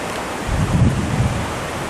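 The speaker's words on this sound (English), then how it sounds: "Looks like we have some thunder over there." Distant thunder rolls over hot coastal country near Jacó, Costa Rica, as a low, soft rumble that swells and fades over about a second beneath steady wind noise on the microphone.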